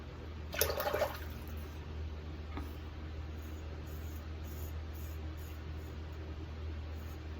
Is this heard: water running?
yes